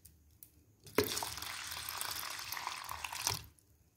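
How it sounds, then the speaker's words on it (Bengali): Water pours steadily into a bowl of washed red lentils for soaking, a close, continuous splashing rush lasting a couple of seconds before stopping abruptly. "এখন জল দিয়ে ভিজিয়ে দেব"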